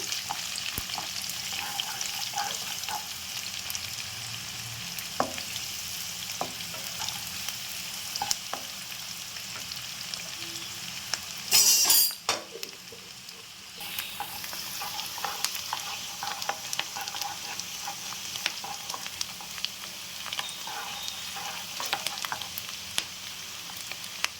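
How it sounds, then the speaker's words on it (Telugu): Onions frying in oil until golden brown for dhaba-style green chicken, a long steady sizzle with occasional stirring taps and a brief louder hiss burst midway. "ఈ ఉల్లిపాయలన్నీ మంచి గోల్డెన్ బ్రౌన్లోకి రావాలి"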